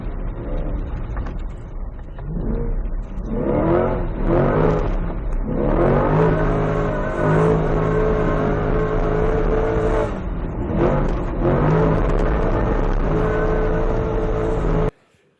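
A Chevrolet Corvette E-Ray with all-wheel drive accelerates sideways on ice, its engine revving in rising and falling sweeps, climbing to a sustained loud roar before cutting off abruptly at the end.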